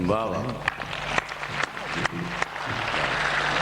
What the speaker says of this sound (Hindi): इतनी तालियां बजाई हैं